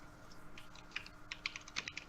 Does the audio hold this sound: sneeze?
no